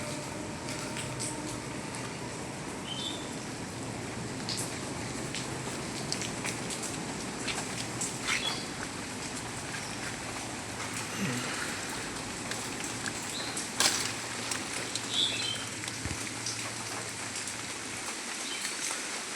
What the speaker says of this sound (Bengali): অসম্ভব বৃষ্টি তিন দিন হলো এভাবে লাগাতার বৃষ্টি চলছে